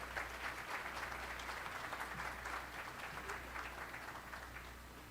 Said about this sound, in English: Please, with applause.